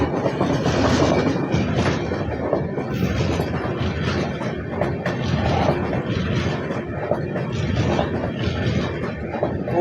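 An LHB-coached Shalimar–Mumbai LTT Kurla Express passes close by on the outskirts of Bilaspur, its wheels beating a steady loud clickety-clack over rail joints with continuous rumble throughout, no voices.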